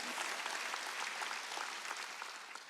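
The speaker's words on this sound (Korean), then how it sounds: "박수쳐" Hand clapping from a church congregation at a Wednesday worship service, a dense, steady patter of many hands that holds evenly for the whole stretch without voices.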